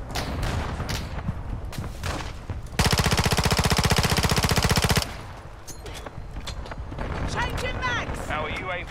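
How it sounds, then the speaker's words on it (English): Rapid automatic fire booms out in Modern Warfare 2 multiplayer, a loud, steady burst lasting about two seconds amid quieter game noise and a voice talking. "Friendly mortar strike inbound."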